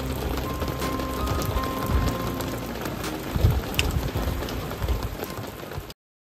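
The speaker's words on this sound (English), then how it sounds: "stormy weather." Heavy rain pours steadily through stormy weather in Central Portugal, a dense continuous hiss with scattered louder drops and thuds, close and loud, ending abruptly.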